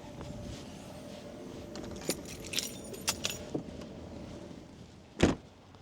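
A bunch of keys jingles and rattles in short bursts beside a parked car in an outdoor car park near a river weir in Randalstown, County Antrim, ending with a louder clatter.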